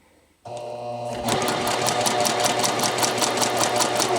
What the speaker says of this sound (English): Number 2 stitch, no back tacking.